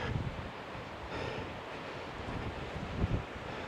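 Strong wind gusts beside a dirt road, heard as a steady, loud rumble of microphone wind buffeting with occasional harder thumps and no speech.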